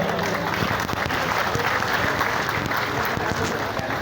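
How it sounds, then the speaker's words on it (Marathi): Vigorous applause from a gathered crowd at a groundbreaking ceremony for a student hostel building in Nashik, steady and dense throughout with scattered louder claps and faint crowd murmur. "सगळ्यांनी जोरदार टाळ्यांचा नाद करायचा आहे"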